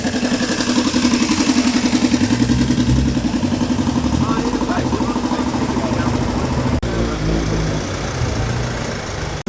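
Old motorcycle engine idling at a classic car show at Tern Hill Hall, a rapid steady putter with clattery mechanical detail, some talk and crowd murmur in the background.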